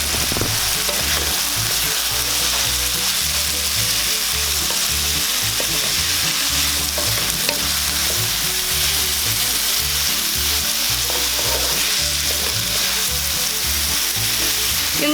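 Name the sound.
tomato and ampalaya (bitter gourd) frying in a pan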